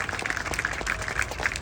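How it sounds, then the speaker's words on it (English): A crowd at the Topeka Rally for Rights, an outdoor gathering with a tent, gives Darcy and Stacy a brief burst of applause. The dense, continuous clapping sounds moderately distant. "Big round of applause for them."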